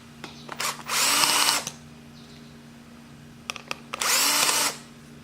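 A power drill removes the tail light socket on a Honda XR 250 motorcycle in two short, loud whirring bursts separated by a pause with faint clicks, close by and with no talking.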